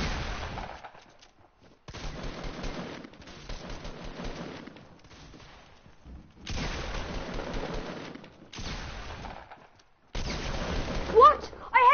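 Bursts of rapid gunfire in the video game Fortnite, arriving in separate volleys broken by short silences, fairly close and loud.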